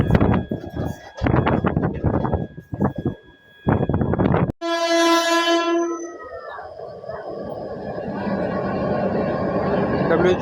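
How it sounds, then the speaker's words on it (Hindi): WAG-12 electric locomotive, number 60344 of Nagpur shed, speeding through with a freight train under overcast skies near Bhatapara station. Close talk comes first, then a sharp horn blast and a loud, steady rolling roar of the passing wagons. "WAG-12 हाई स्पीड स्किप कर रहा है फ्रेट ट्रेन के साथ"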